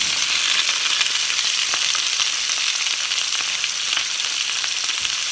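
Potatoes fry in a pan with a steady, dense sizzle and crackle that runs unbroken at close range, with no one talking over it.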